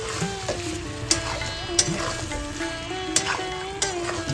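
Chicken curry sizzling and frying steadily in a pan, with occasional stirring clatters and sharp pops over a continuous hiss, close and moderately loud, with no talking.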